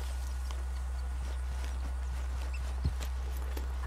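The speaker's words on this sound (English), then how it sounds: "Wait, where'd my horse go?" Horse hooves walking in the video game Red Dead Redemption 2, soft irregular clip-clop steps over a steady low hum, with one slightly sharper thud near the end.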